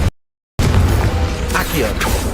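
A Confringo explosion spell fires in the Hogwarts Legacy video game, a sudden booming blast after a brief silence, followed by crackling, rumbling aftermath and a couple of sharp magical whooshes.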